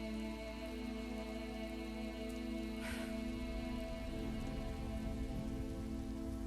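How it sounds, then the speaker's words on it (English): Rain falls steadily on surfaces as a continuous hiss, soft and even, under a constant tonal music bed, with one brief brighter splash partway through and no voices. "rain falls."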